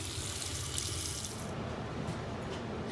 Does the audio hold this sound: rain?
no